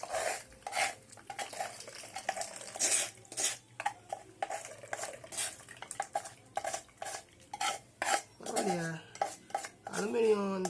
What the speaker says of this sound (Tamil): நம்ம இதை இந்த பாத்திரத்தில் மாற்றி கழுவ போகிறோம்.